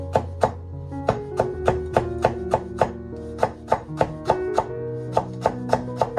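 A knife chops a cucumber into fine strips on a cutting board, giving a quick, even series of crisp, close knocks that run without a break, with no voices.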